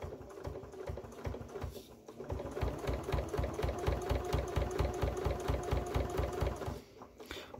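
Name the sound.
sewing machine stitching a zipped pouch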